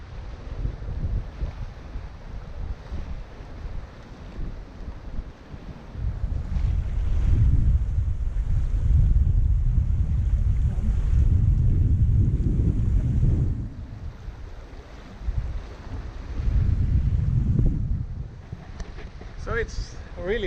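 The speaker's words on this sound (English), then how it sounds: "So it's really windy" Strong wind at about 10 metres per second roars across the microphone in heavy gusts, mixed with rushing water and waves against a moving Bavaria 41 sailboat.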